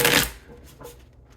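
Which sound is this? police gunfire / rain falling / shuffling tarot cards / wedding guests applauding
shuffling tarot cards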